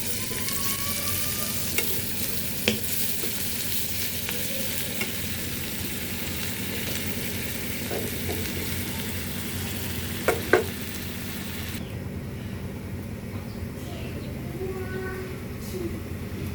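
An ingredient for nigella seed bhorta frying in hot oil until brown, a dense continuous sizzle close by with occasional crackles and stirring clinks, steady throughout.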